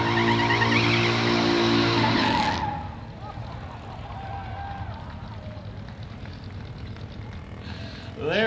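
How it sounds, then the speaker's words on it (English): A late model race car showboats in victory lane at Barrie Speedway: a loud engine roar with tyre squeal that cuts off after about two seconds, leaving lower rumbling and crowd noise, then another burst of engine noise right at the end. "as Daryl St. Honest does a little showboating here in Victory Lane."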